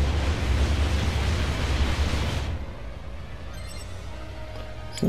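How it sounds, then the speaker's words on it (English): A loud, broad roaring blast from an airstrike in Gundam Battle Operation 2 rumbles for about two and a half seconds, then drops to a lower steady rumble with faint after-sounds. "That was an airstrike."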